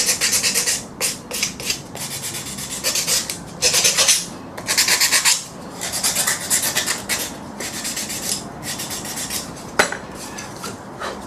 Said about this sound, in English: I've quite a coarse sandpaper on that, and on my block I have one that's a lot finer for finishing off.